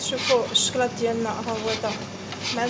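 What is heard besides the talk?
No everyday noises stand out.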